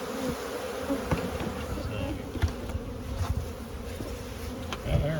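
Honeybees fanning at the entrance of a newly settled hive make a continuous close buzzing drone that stays steady throughout, with no clear talk.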